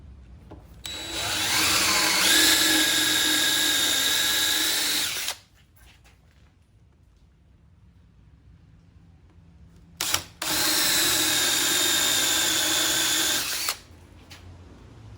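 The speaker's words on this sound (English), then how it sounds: "So the point of that Forstner bit goes right in that hole, and I want to countersink that the depth of the washer and the nut." A power drill with a Forstner bit bores countersink holes in wood for a washer and nut, whining steadily in two long, loud runs separated by a quiet pause.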